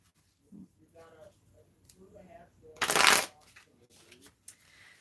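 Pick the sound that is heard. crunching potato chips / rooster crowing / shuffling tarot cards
shuffling tarot cards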